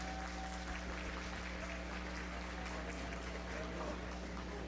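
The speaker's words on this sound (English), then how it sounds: "If we could give these young exhibitors a big round of applause" Applause from a county fair livestock show audience for young exhibitors, a steady wash of clapping over a constant low hum, moderately distant and continuous throughout.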